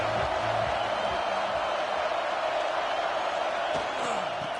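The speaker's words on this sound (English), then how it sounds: "This crowd ready to make its presence known." A stadium crowd roars continuously in an NCAA college football video game, a dense, steady wash of cheering with faint thumps underneath.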